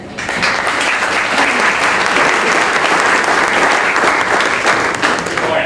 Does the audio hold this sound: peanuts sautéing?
no